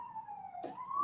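A siren holds a steady, high wailing tone at moderate distance, with a brief rustle partway through before the pitch climbs again.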